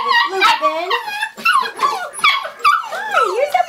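Several Labrador puppies, English yellow and chocolate, whimper, yip and bark in a busy overlapping chorus close by, with a voice talking over them.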